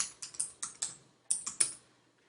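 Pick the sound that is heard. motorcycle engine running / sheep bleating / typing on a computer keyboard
typing on a computer keyboard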